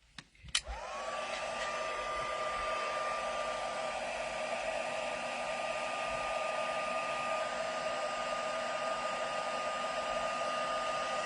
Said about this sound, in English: And then I'll go in and heat set that